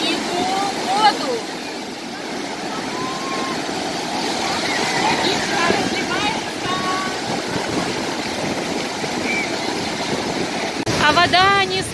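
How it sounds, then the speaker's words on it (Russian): Sea waves wash and rush continuously with a windy hiss, while a person talks over the surf nearby. "несмотря на волны, вот такие вот шумные"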